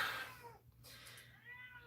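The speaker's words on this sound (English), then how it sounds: "my cat's gonna give me anxiety by meowing by the door" A cat meows by a door, a couple of drawn-out, wavering cries heard faintly and fairly close in an otherwise quiet room.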